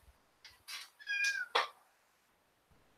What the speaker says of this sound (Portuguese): Eu tô com uma gatinha aqui do lado, então ela tá fazendo um pouquinho de barulho